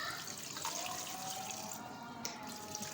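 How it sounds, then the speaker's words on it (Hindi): Water runs steadily into a cooking pot of beef being prepared for karahi gosht, a continuous close splashing stream filling the pot with no talking over it. "अब इसमें जो है ना पानी डाल लेते हैं इतना कि जिसमें गोश्त वगैरह जो हमारा है ना अच्छी तरह से गल जाए"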